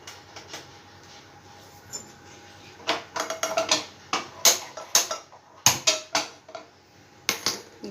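A cooking pan being set on a kitchen stove, heard as a scatter of sharp metallic knocks and clatters, sparse at first and then in quicker bursts, close by in a quiet room.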